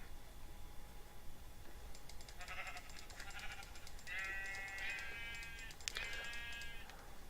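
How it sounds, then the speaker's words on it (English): A sheep bleats several times in a castle-building video game, short wavering cries over a quiet low background hum, fairly faint and alone without voices. "Probably gonna have to sacrifice this sheep here."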